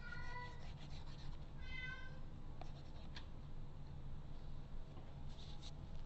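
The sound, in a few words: cat meowing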